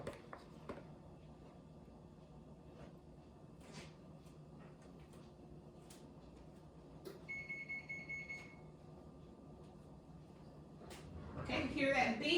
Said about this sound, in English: hear that beep? It's 400 degrees.